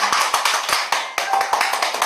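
Rhythmic clapping from a small audience at a senior laughter-therapy recreation class, roughly a dozen sharp, evenly spaced claps in a steady beat, close and fairly loud, with no talk over them.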